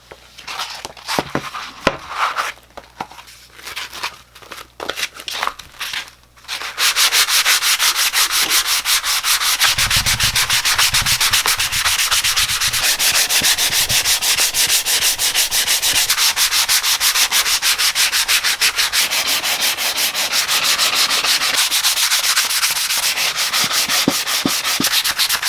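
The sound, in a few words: sanding wooden kalimba body with 320-grit cloth sandpaper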